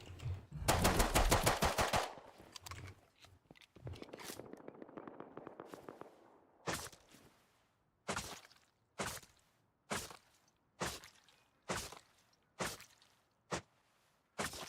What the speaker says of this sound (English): Did not want to shoot this close to other bases.